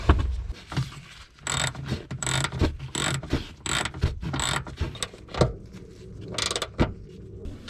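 A ratchet tightening nuts on a coilover top mount during an HKS Hypermax GT IV install on a 2019 Subaru WRX, quick bursts of clicking pawl action in repeated runs with pauses between, close-up and without talk.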